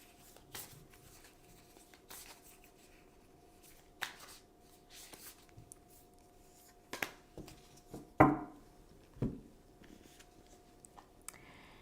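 Tarot cards being shuffled, with soft rustles and sharper riffling bursts coming and going in irregular clusters, quiet and close, with no speech.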